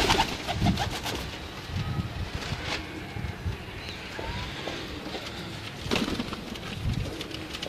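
A blue kamagar pigeon coos close by in repeated soft bursts, with light outdoor background noise around it.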